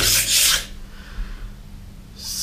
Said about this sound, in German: der schleift das Messer richtig schön scharf